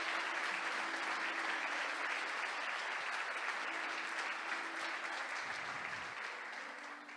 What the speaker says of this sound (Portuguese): Então vamos aplaudir o Senhor e glorificar o nome dele